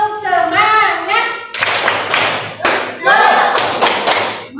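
A classroom of students performs a rhythmic spirit clap, a tepuk semangat, with patterned clapping and thuds bursting out between voices that chant along.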